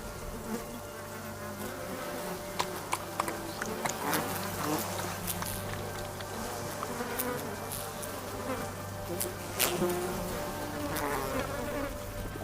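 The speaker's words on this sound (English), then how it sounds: "The heat brought the flies in swarms." A swarm of flies buzzes continuously in hot weather, several insects drone and whine close by at varying pitches, with faint ticks and rustles beneath.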